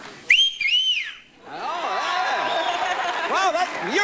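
A person whistles loudly in front of a studio audience, sharp rising and falling notes for about a second, then a crowd murmurs and cheers with more whistled swoops and overlapping voices.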